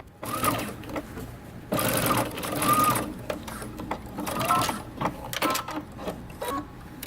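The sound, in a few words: sewing machine stitching around dress sleeve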